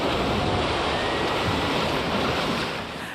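Ocean surf at a San Diego dog surfing event, a steady loud rush of breaking waves filling the clip and easing slightly at the end.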